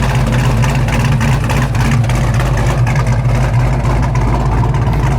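A 1967 Ford Mustang Fastback idles through its dual exhaust, a loud, deep, burbling rumble with a steady lopey pulse, close by and alone.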